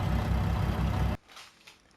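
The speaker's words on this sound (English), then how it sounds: "Fire the truck up here, let it warm up a second" Truck engine idling in Farming Simulator 22, a steady low rumble that cuts off abruptly after about a second, leaving a quiet faint background.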